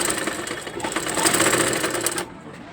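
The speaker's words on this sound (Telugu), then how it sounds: "ఇక్కడికైతే స్టిచ్ చేస్తున్నాను." A sewing machine stitches tent fabric with a fast, steady close whirring chatter that runs for a couple of seconds and then cuts out, with no talking.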